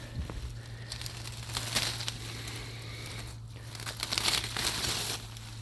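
Ivy being pulled and torn off an old cottage wall as one sheet, close crinkling, ripping and crackling of stems and leaves in irregular bursts, louder around the middle and near the end, no talk.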